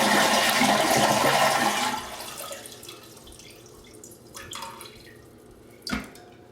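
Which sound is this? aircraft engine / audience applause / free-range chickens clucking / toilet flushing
toilet flushing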